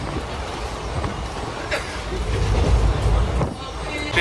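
The Haldibari tri-weekly express runs along the line, giving a continuous low rumble with faint rhythmic clatter and occasional knocks that swells slightly midway.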